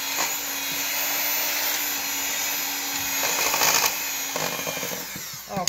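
Maple walnut cake batter being mixed, likely with an electric mixer, gives a steady whirring motor drone throughout, with a few louder rattling bursts near the end.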